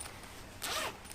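A single short zip of a backpack's inner pocket zipper, one quick pull heard close and fairly quiet.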